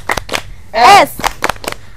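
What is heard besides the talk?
children clapping in a rhythmic class clap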